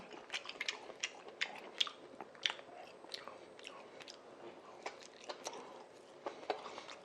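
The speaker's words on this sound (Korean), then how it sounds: "여기다 올려놓고 간장을 이렇게 찍어 먹어야겠다" Someone eating a Korean pancake (jeon) dipped in soy sauce, with close, soft chewing and biting sounds that recur irregularly and stay alone without talk.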